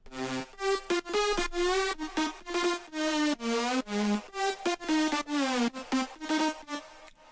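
Layered synthesizer lead tones playing a choppy melodic phrase of short rhythmic notes, rising and falling in pitch, with no other sounds.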